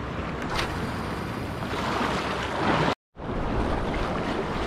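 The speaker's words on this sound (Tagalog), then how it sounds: "Grabe ang hangin na." Strong wind blows at sea during a fishing trip. Loud, broadband gusting and buffeting rumble continuously, cut off briefly by a short dropout near the end before resuming.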